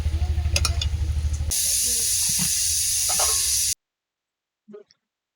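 Mutton curry boiling in water in a covered pot gives off a loud, steady close hiss of steam that cuts off abruptly into near silence, with a brief soft sound near the end.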